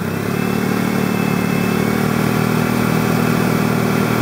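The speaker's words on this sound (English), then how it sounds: "you wanna go and raise your RPMs to about 1500" Car engine revved and held at about 1500 RPM during an alternator test, a loud, steady, close mid-pitched drone with no talking.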